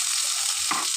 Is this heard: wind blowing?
no